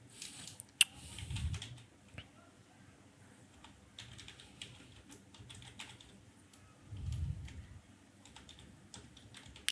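Computer keyboard keys tapped in quick irregular bursts while typing contract details, close and fairly quiet, with brief pauses and a faint low rumble of room noise.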